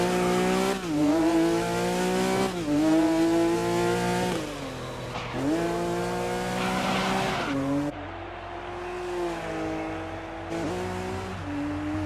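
A Porsche in the racing game GRID 2019 revs hard, its engine pitch climbing and dropping through gear changes while tires skid and squeal under the handbrake, loud, close and continuous for the whole stretch.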